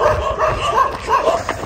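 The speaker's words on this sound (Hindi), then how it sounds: "Yes, you should be barking Bros." Dogs barking outdoors along a cross-country running route, a few close yips and barks in quick bursts with whimpering tones, fairly loud, no talk over them.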